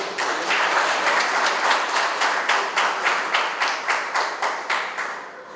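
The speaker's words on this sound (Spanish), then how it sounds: "a quien lo vamos a recibir con fuertes aplausos" Audience applause welcoming a superior court judge at a legal lecture on criminal procedure: steady, dense clapping from a crowd with a faintly pulsing rhythm, loud and sustained throughout, no talking over it.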